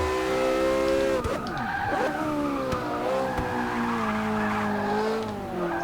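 A hypercar races around the track in Forza Motorsport 6, its engine note loud and close, revs sweeping up and down as tires squeal and skid through drifting corners.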